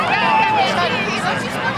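A concert crowd gathers at Lakewood Amphitheatre in Atlanta before a show, a steady dense murmur of many voices chattering together with no single speaker standing out.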